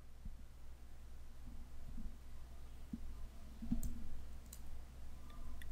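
A computer mouse clicks several times at an uneven pace, faint and close, over a quiet room with a low steady hum.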